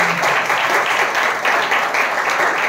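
A church congregation at a Hindi Christian service claps together in a dense, steady burst of applause with no voice over it.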